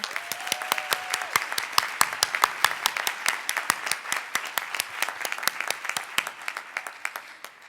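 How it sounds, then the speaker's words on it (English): An audience at a school district's Teacher of the Year awards ceremony gives sustained, dense applause that fills the room, fading slightly toward the end. "Can we please give another round of applause for all the Teachers of the Year?"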